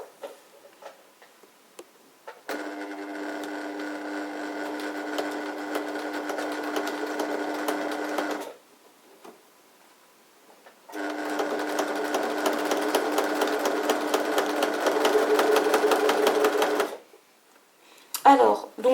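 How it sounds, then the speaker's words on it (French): A sewing machine topstitches a bag pocket in two long, fast runs of rapid mechanical clatter, separated by quiet pauses with faint handling noises, loud and close. "Donc, je vais les surpiquer tout le long, là, là."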